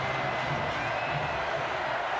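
A college football stadium crowd at Auburn versus Alabama, a broad steady roar of many voices with a continuous wash of noise, loud and unbroken throughout.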